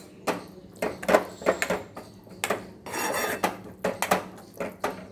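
Mashed eggplant bharit being mixed with turmeric in a bowl, heard as a close series of clinks, scrapes and brief rasping strokes of a spoon against the dish, with no one speaking.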